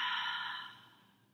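A single long, soft exhale during a yoga breathing exercise, breathy and close, fading gradually over about a second with no talking.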